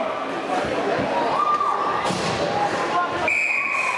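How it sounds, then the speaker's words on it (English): A crowd at a 2010–2011 high school hockey game, Hudson Raiders versus Simley, keeps up a dense roar of cheering and shouting in an indoor rink, with thuds and whistle-like squeaks mixed in. "Nice to hear the crowd"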